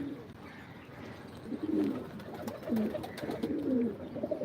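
Pigeons cooing in a loft in Malerkotla, low throaty coos repeating in a few rounded phrases over a soft background, fairly close.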